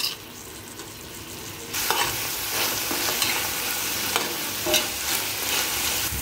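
Amaranth greens cooking in a pan, stirred with a loud frying sizzle that swells after a quieter start, with scraping strokes and occasional clinks of the utensil, no voices.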